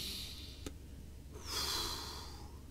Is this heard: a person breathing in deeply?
yes